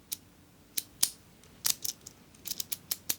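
Metal lock pins click sharply as a key slides into a deadbolt lock, a series of crisp, close ticks coming in uneven bursts with nothing else around them.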